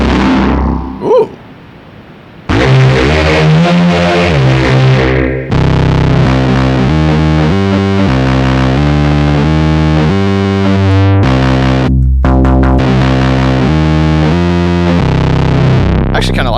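A MicroFreak synth runs through the T-Scream distortion on a Zoom MS-50G pedal, producing loud, buzzing overdriven chords and notes that change pitch in steps, after a brief quieter start with a short vocal sound.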